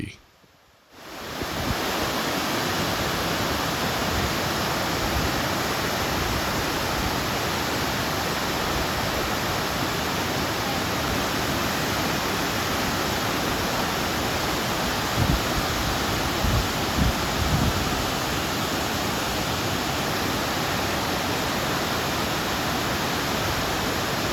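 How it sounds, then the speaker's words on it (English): Bond Falls in Michigan's Upper Peninsula, a waterfall about 100 feet wide with a 50-foot drop, roars as a steady, loud broadband rush of falling water that fills the whole scene from start to finish, with no pauses or breaks. "this is the largest waterfall on the western side of the UP"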